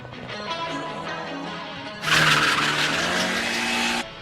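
Anime street race between an AE86 and a Lancer Evo: a steady engine drone gives way to a loud, sustained tire screech lasting about two seconds before cutting off.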